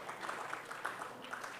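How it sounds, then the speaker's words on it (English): Audience applause for the students after poster and live demo sessions at a young builders' event, a soft continuous patter of many hands clapping at some distance, fairly quiet and steady. "Big round of applause for all the students"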